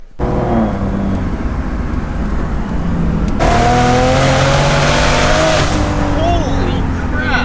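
Big-turbo BMW 135i wound out to about 7,000 RPM in a hard pull: a loud, continuous engine roar with the pitch rising steadily, then shifting into a new rising sweep, with excited voices over it.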